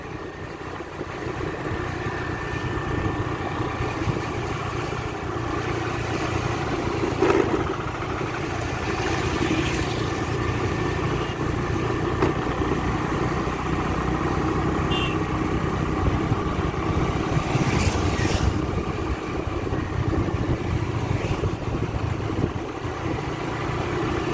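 A motorcycle engine runs steadily on a ghat road near Bangiriposi on NH 49, a continuous mid-level drone with a few faint knocks and rattles over about twenty-five seconds, no voices.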